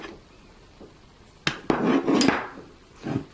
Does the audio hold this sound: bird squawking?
no